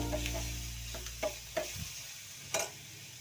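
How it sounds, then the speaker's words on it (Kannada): Field beans and vegetables for avarekai palya fry in a pan with a soft, steady sizzle, punctuated by about five sharp spatula taps and scrapes against the pan, close up and with no talking. "ಸೊ ಅದನ್ನು ಕೂಡ ಹಾಕಿ ಅದನ್ನು ಫ್ರೈ ಮಾಡ್ಕೊತಾ ಇದ್ದೀನಿ."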